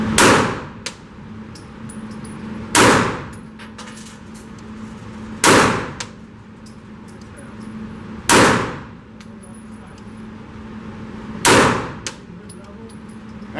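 A full-size Walther PDP pistol fires Blazer Brass ammunition outdoors. Five loud, sharp shots come at a steady pace about three seconds apart, each followed by a faint metallic ring of a steel target.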